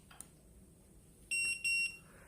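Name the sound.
electronic deadbolt beep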